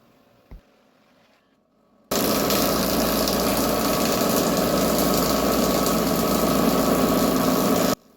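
A woodworking machine starts abruptly after a quiet stretch and runs loud and steady, with a dense, droning mechanical roar while cutting wood to size, holding constant for about six seconds before cutting off.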